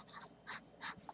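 A marker scratches across a board during a math lecture, with three or four short strokes close by and no talking over them.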